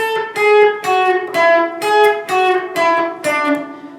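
An electric guitar picks out the Grateful Dead's Jack Straw melody as single notes on the second and third strings, about eight clear plucked notes at an even pace, played alone.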